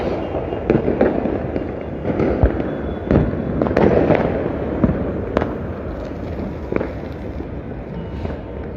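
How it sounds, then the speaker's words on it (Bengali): New Year's Eve fireworks over Dhaka crackle and pop continuously from many points across the city, sharp bangs standing out against a dense, rumbling wash of distant bursts. "রাজধানীতে কিন্তু আতসবাজি এবং ফানুস উড়ানো হচ্ছে নতুন বছরকে নতুন বছর উপলক্ষে"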